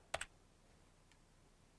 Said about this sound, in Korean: 내가 실제로 그 키보드를 누르면